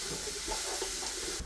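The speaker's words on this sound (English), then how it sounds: "I have the onion, the ginger and garlic. I'm going to fry them for some time." Onion, ginger and garlic frying in a pan, a steady close sizzling hiss throughout.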